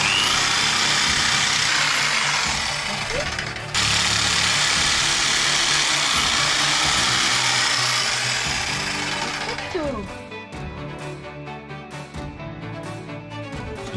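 A jigsaw fitted with a fine-finish sheet-metal blade cuts slowly through thin metal aboard a sailboat, a loud continuous buzzing rasp that stops briefly near four seconds, then gives way to quieter mechanical noise and a lower hum.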